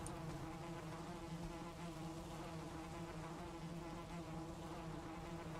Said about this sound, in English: I should really plant the rest of the beehives over here.